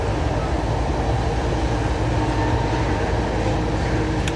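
A BNSF freight train rolls past in Ashland, Nebraska, giving a steady, loud, close rumble of wheels and cars that holds level throughout with no break.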